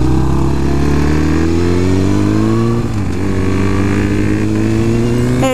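A Suzuki GSX-R 1000 superbike engine revs loudly and steadily up close, its rising harmonic whine climbing continuously with a brief dip midway before pulling higher again, with no voices present.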